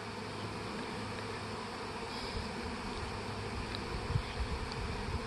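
Honey bees massing around a hive ready to swarm, a dense steady buzzing drone from many insects, close and continuous, with occasional louder passes of individual bees.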